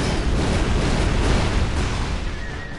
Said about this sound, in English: I can actually use Fire Breath to hit all parts.